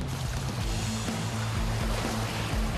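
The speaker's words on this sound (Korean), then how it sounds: "물살이 파도가 오늘은 조용한데도 이렇게 세요." Continuous rushing water and surf churn loudly against coastal rocks off a remote island in South Jeolla, Korea, a dense roar with low rumbling surges throughout.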